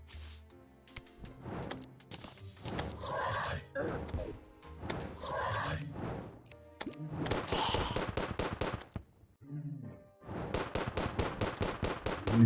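Gunfire from a gun with infinite basic ammo in the video game Terraria: bursts of rapid sharp shots in several clusters separated by short gaps, with game sounds mixed in.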